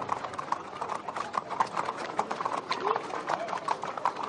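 Horses' hooves clip-clopping on a road during a transhumance drive, a dense, rhythmic stream of overlapping hoofbeats from several animals, with people talking underneath.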